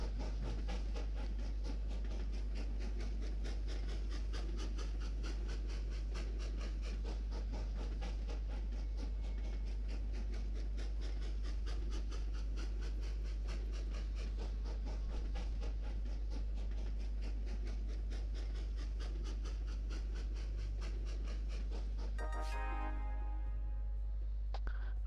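A train rolls along with a steady, rhythmic rattle in the Train Valley video game on a Japan level, a quiet continuous hum with no talk, ending in a brief bright game chime.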